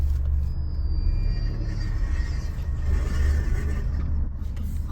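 A car backs up slowly over a gravel parking lot, its engine producing a steady low rumble throughout, with a thin, faint high-pitched screech briefly showing near the start.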